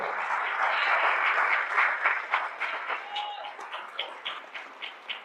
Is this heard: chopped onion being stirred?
no